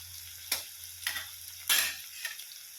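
Garlic fries in a pan for a green pea chutney. Three or four short bursts of sizzling come as it is stirred, with quiet, low sizzling between them and no talking.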